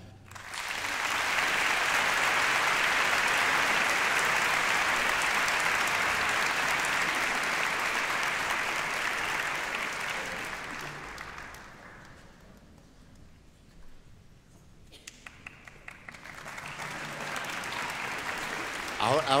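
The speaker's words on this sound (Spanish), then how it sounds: "Ahora no tocaba aplauso" Audience applause fills a concert auditorium at a Christmas charity concert, loud and sustained for about ten seconds, then fading to scattered clapping before a brief renewed burst.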